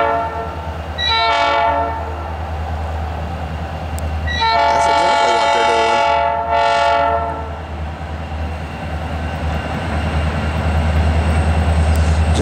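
Three Norfolk Southern SD40 diesel locomotives running light as train P60 on the Piedmont Division S Line, Asheville District, sound several loud horn blasts over a constant heavy engine rumble close by.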